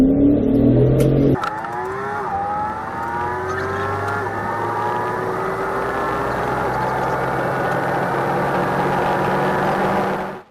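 A black BMW accelerates hard and speeds away in a police chase, a sudden loud engine surge with rising revs through several gear changes, holding strong before cutting off abruptly.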